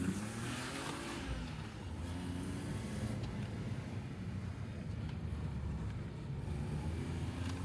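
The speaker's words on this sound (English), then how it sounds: "Let's see if we can do a bit of a drift." Manual-converted BMW E36 engine droning steadily and loudly throughout a drift attempt, with wind buffeting the microphone and no clear rev spikes.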